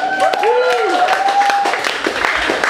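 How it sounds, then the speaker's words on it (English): Audience at a live gig clapping for the band, a steady patter of applause throughout, with a loud whistle and a brief whooping cheer rising over it. "Can I have a round of applause for them tonight?"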